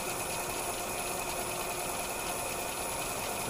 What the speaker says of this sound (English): I'm now going to slow down the driver for the foreground generator back to 60 Hertz.